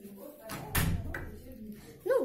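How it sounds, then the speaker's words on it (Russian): A door closes with a sharp thud partway through, fairly near, followed by a quieter knock and a short voice at the end. "Обязательно надо закрыть дверь за собой."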